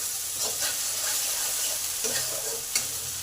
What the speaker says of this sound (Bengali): মশলাগুলো ভালো করে আগে কষে নেব